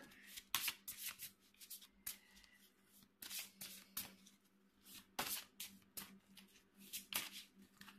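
A deck of tarot cards is reshuffled by hand in bursts of sharp, close riffles and flicks separated by short pauses. The sound is fairly quiet, with a faint steady hum underneath and no voices.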